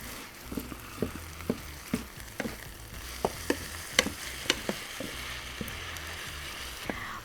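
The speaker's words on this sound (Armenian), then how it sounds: "Շարունակում ենք մեր միսը, մի քիչ ենք մարացնում" Meat fries in a pan with a steady soft sizzle, broken by sharp ticks and clicks of stirring at irregular intervals, close and fairly quiet, with no talking.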